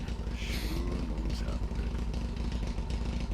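A motorcycle engine in the Ride To Hell Retribution video game drones steadily and hollow-sounding throughout, loud and continuous, with faint voices mixed in.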